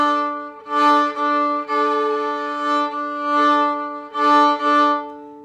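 A slow shuffle lick is bowed on a string instrument in a fiddle bowing lesson, with several sustained, evenly pulsing bow strokes that swell and fade, played close and alone.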